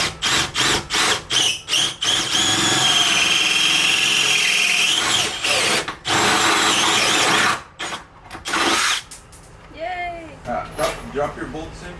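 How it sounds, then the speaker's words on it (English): A power drill whines steadily for several seconds drilling out a rivet on a BMW E46 while a dog barks repeatedly around it; voices speak briefly near the end. "We're gonna need to drill out that rivet"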